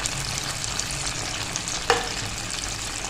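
Green chili, ginger and garlic paste goes into a sizzling chicken karahi, with a steady close frying hiss and a brief stirring clatter midway and no talk.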